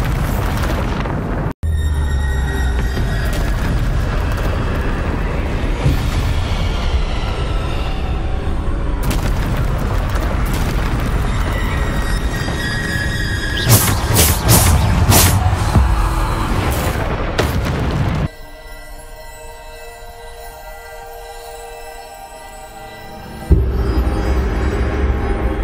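A Bombarda spell explodes in a video game with a sharp crack, then heavy booming blasts and rolling rumble. Loud, dense bursts rise midway before fading into quieter game ambience.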